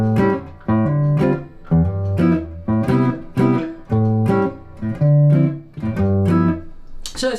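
Piano jazz intro vamp cycling through chords with the sixth chord voiced as a dominant seventh, played as steady repeated block chords in an even rhythm, close and clear with no talking.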